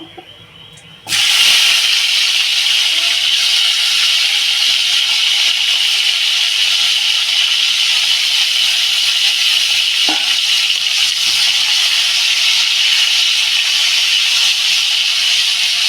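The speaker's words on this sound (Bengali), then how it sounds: "আমি এবার ফুলকপিটা দিয়ে দেবো ফুলকপিটা ভালো করে ভেজে নেব" Cauliflower is dropped into hot oil in a pan and fries with a sudden loud, steady sizzle and hiss that holds unbroken for many seconds after an abrupt start, with no talking.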